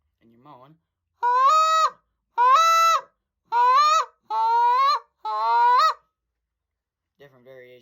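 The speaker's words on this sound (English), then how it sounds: "Different variations of the moan." A goose call sounds five long, loud moaning notes in a steady sequence, each slightly different, bracketed by softer short notes at the start and end.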